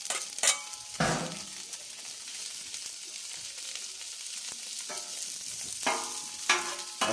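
Butter and oil sizzle steadily on a hot Blackstone griddle while smash burgers of wild pork and deer meat cook, with a few metal utensil scrapes and clinks breaking through the constant frying hiss.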